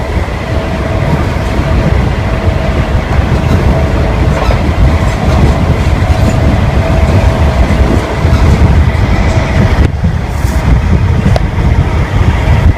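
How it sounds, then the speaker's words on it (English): A Heathrow Connect Class 360 Desiro electric train runs loud and close, a constant heavy rail rumble with rhythmic clickety-clack over the track joints and a brief shift in tone near the end. "Heathrow Connect Class 360 Desiro."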